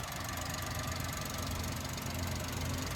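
A Japan surplus truck's RO6 engine idles steadily nearby with a continuous low rumble and faint knocking, with no voices.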